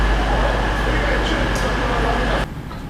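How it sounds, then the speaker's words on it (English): Steady low rumble and broad hiss of an East Midlands train bound for London St Pancras, heard from on board, continuous and fairly loud before dropping abruptly near the end. "This is the East Midlands train."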